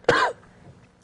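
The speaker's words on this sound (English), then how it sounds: "Still got a little bit of allergies I'm getting over, so I'm coughing up a lot" A person with allergies gives a single sharp cough, loud and close, followed by a brief quiet pause and the start of another short burst at the end.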